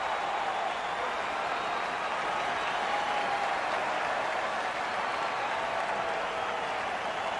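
A simulated arena crowd in NHL 19, during a Canada versus Finland ice hockey match, cheers after a big collision, a steady, moderately loud roar that holds without break.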